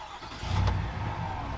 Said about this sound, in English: Let's fire this GMC up though.